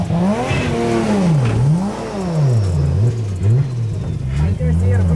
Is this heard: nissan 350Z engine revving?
yes